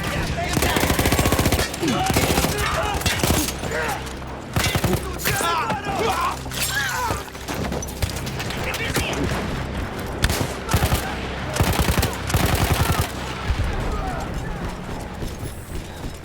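Sustained machine gun fire from a World War I Austro-Hungarian gun emplacement in Battlefield 1, loud rapid bursts with short pauses over a chaotic battlefield din, with voices shouting in the background.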